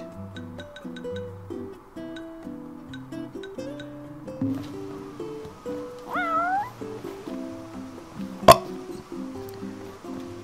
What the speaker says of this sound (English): Cat! Cat! Cat!